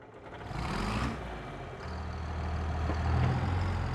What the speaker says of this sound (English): That's a proper tractor sound.